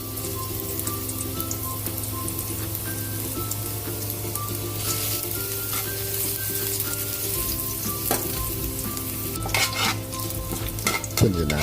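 Garlic fries in hot oil for pork picadillo, a dense, close hiss and crackle like rain, with stirring clinks and scrapes toward the end.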